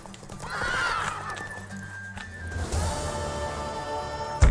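A horse in the video game Witcher 3: Wild Hunt neighs in a loud, drawn-out whinny, followed by hoof clip-clop and a second shorter whinny, close and clear with no talking.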